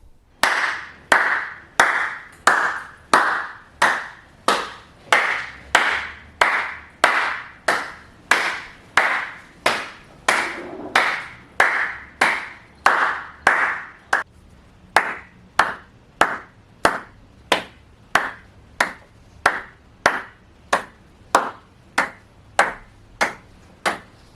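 Single handclaps in a recording studio before acoustic treatment, about thirty sharp claps at a steady pace, each trailing off in a short ringing echo.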